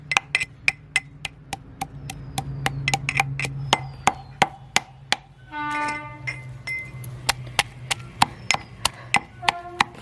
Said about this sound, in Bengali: আর কটা কাঁচা লঙ্কা দিয়ে এগুলোকে থেতো করে নিচ্ছি